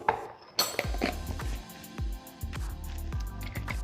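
A lid goes onto a glass mason jar holding ice cream mixture, with a series of sharp clinks and clatters of metal on glass, close and fairly quiet, with no talking.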